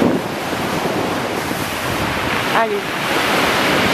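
Winter ocean waves washing onto the shore at Patmos, a continuous loud wash of surf with heavy wind buffeting the microphone and a brief spoken word partway through.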